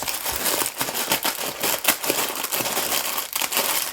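A packet of Indomie instant noodles being crushed by hand, dense continuous crinkling and crackling of the wrapper with the dry noodle block breaking inside, loud and close throughout.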